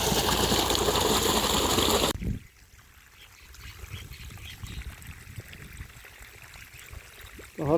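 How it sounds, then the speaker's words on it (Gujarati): Irrigation water runs into vegetable plots on a farm, a loud rushing flow at first that drops away to a softer trickle and gurgle nearby. "જુઓ શાકભાજીમાં પાણી વાળી દીધું છે."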